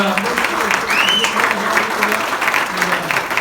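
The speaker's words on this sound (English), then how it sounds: "Give Chloe a quick round of applause" Comedy club crowd on a New Year's Eve show breaking into steady applause, many hands clapping with a few cheers and voices mixed in.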